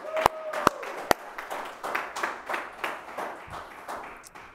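Scattered hand claps from a small gathering at a virtual Moose fraternal convention session, a few sharp near claps followed by softer, uneven clapping with a voice talking underneath.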